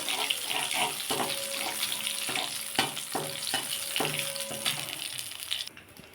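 Nigella seeds and a split dried red chilli crackle and sizzle in hot oil, the frying close and fairly loud with some clinks and splashy noise, then cutting off near the end.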